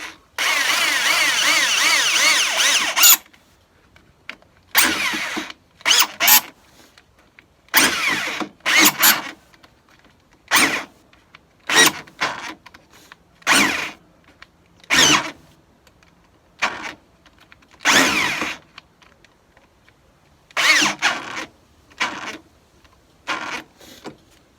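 A power drill bores into a riding mower during electrical wiring work, running in a long burst and then in many short on-off bursts, close and fairly loud with quiet gaps between.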